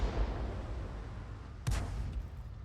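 SU-8 self-propelled artillery gun in World of Tanks firing a single booming shot at an EBR Hotchkiss, a sharp blast rising out of steady battle rumble and fading quickly.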